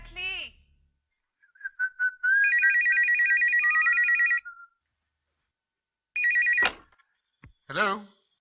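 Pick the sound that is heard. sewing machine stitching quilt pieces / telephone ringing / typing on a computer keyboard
telephone ringing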